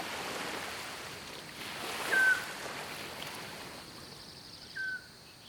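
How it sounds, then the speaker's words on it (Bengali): Sea waves roar at night as a low, continuous wash of surf, faint and distant, swelling slightly twice with brief louder surges. "সাগরের গর্জন শুনতে শুনতে তাঁবুতে রাত্রি যাপনের প্রস্তুতি নিলাম।"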